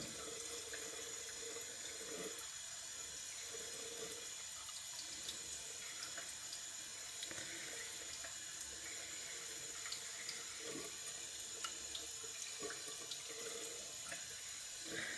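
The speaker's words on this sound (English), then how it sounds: "running water is just my favorite way to finish on the coticule" Water runs from a tap over a coticule hone while a straight razor is finished, a steady close splashing stream with faint scattered clicks and scrapes under it for about fifteen seconds.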